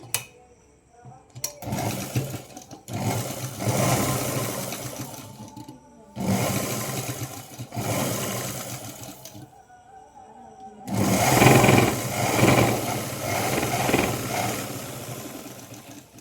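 A sewing machine stitches a Punjabi dress, running in three or four steady mechanical bursts separated by short pauses, close and fairly loud, with faint talk in the background.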